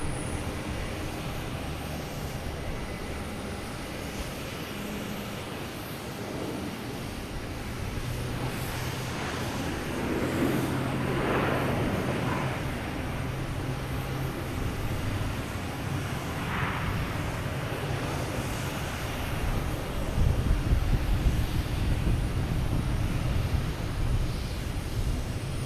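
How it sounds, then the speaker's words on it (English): United Airlines Boeing 737 MAX 8 airliner arriving from Newark at Boston Logan Airport, a steady broadband jet rumble holding throughout, growing slightly louder and deeper toward the end, with no talk. "737 MAX 8."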